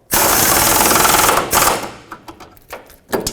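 A power impact tool tightens bumper bolts on a 2009-2014 Ford F-150 rear bumper, a loud rattling burst of about a second and a half followed by shorter bursts, close up and with no talking.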